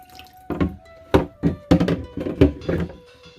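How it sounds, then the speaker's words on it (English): Water drains from washed raw chicken at a trailer park campsite, in a quick series of irregular splashes and drips heard up close. "you're just going to drain the water out."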